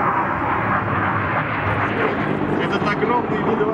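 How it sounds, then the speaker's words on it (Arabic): Russian military aircraft roar past during a flying display at the MAKS air show near Moscow, a loud continuous jet rumble filling the whole stretch with steady broadband noise and no break. "عروضا جوية قدمتها طائرات وأسراب من الطيران الجوي الروسي"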